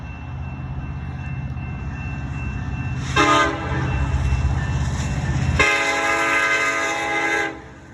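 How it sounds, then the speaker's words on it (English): A train rumbles past nearby, and its horn sounds twice: a short blast, then a longer, loud one before it cuts off. "I might have to take a break for the train"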